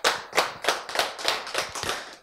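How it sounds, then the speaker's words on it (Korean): A small audience claps in about seven distinct bursts, close by and fairly even in rhythm, during a Korean church sermon. No talking is heard over the claps. "박수"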